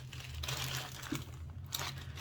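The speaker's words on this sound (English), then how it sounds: "So we're going to open that up. It came in a plastic bag," A plastic mailing pouch holding yarn crinkles and rustles as it is torn open, a close, continuous papery crackle with a few sharper snaps and no talking.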